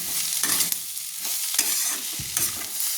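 Bitter gourd and potatoes stirred in a hot pan with ground dried chilli and cumin: a bright sizzling hiss broken by a few sharp scraping strokes of a spatula, close up.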